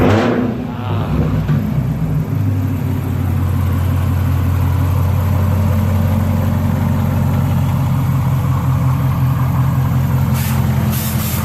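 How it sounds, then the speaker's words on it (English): A 2018 Chevrolet Camaro ZL1 engine freshly filled with AMSOIL motor oil fires up after a brief crank and settles into a loud, steady idle with a deep low rumble, close by and alone throughout. "our first startup with AMSOIL on the count of 3"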